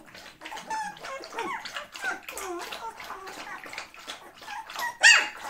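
Outdoors on a nature walk, an animal gives rapid bursts of high, yelping barks, one after another, fairly close and loud, with no talking over them.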